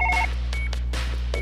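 A telephone in the video game Surgeon Simulator rings with loud, rapid electronic tone bursts, several short beeps repeating over a steady low hum.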